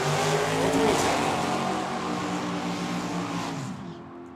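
A big Malibu and a Roadrunner drag racing at a dragway, a loud roaring engine blast that holds steady and then drops away at the end.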